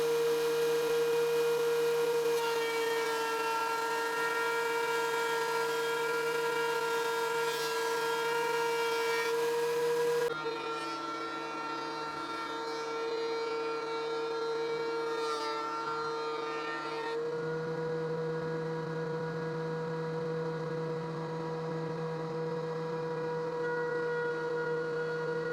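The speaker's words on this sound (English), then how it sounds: "if you have a planer like this" A wood planer runs steadily on boards for a tabletop: a loud, constant motor drone with a bright whine whose tone shifts twice as the cut load changes, with no talking.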